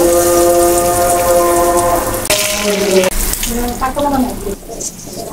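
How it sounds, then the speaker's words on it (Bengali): Pumpkin-leaf patturi with dried fish hits hot oil and fries with a loud, steady sizzling hiss, alongside a sustained tonal hum and a voice in the background. "এই যে দেখেন আমার তেলটা গরম হয়ে গেছে, পাতুরিটা দিয়ে দিব।"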